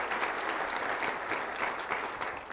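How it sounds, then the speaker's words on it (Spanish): A church congregation applauds during a sermon, a loud, dense, steady clapping with a slight pulsing rhythm and no voices over it. "Denle un aplauso al Rey de Reyes y Señor de Señores"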